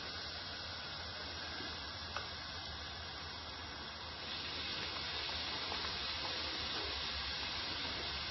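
Pieces of cake batter fry in hot oil in a pan, a steady faint hiss and sizzle throughout that grows slightly fuller partway, with no talking.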